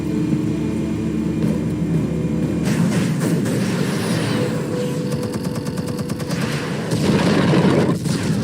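An explosion in the video game Batman The Telltale Series booms loud and close, followed by rumbling, rapid crackling bursts and a roaring mechanical drone.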